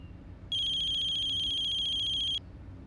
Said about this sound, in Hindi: अभी किसका फोन आ गया?